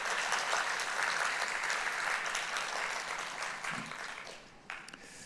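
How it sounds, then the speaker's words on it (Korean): Sustained applause from a church congregation at a Sunday worship service in Kuala Lumpur, a broad, fairly distant wash of clapping that slowly fades toward the end. "영광 받으신 하나님을 향해서 감사의 박수 한번 올리도록 하겠습니다"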